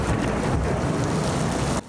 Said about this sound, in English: In downtown Raleigh, a bright flash of lightning followed by this.